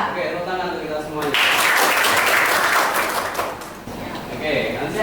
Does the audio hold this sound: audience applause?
yes